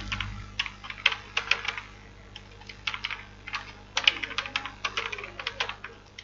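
Bengali text is typed on a computer keyboard in graphic design software: a quick, uneven run of crisp key clicks in close bursts with short pauses, and no voice.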